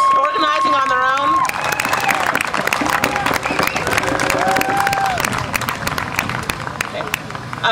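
Rally crowd at an outdoor peace and justice gathering breaks into sustained applause and cheering for teenagers, with dense clapping, shouts and whistles continuing at full strength throughout.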